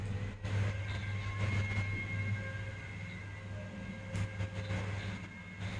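Small fans in a cheap tech gadget run at their highest speed, giving a steady, close whirring rush with a constant low hum and no break.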